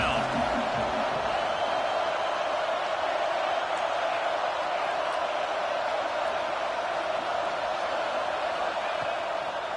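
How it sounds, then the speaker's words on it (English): A big stadium crowd in Happy Valley roars steadily on third down in a college football video game, Michigan versus Penn State, a loud, constant wash of noise with no break. "Here comes the noise from this big crowd in Happy Valley on third down"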